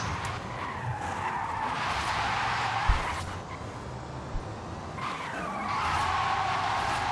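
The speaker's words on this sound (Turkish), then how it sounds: "Driftinden de kesinlikle keyif aldık Porsche Taycan'ın" Porsche Taycan Turbo S drifting in Forza Horizon 5, with sustained loud tire skid and squeal over a steady electric drive whine, swelling and easing across several slides, no talk.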